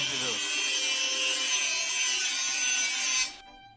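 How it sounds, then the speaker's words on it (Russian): An angle grinder in a video game cuts with a harsh, high whine and rasp that holds steady for about three seconds, then stops abruptly, leaving a faint tonal hum. "У него еще и болгарка есть."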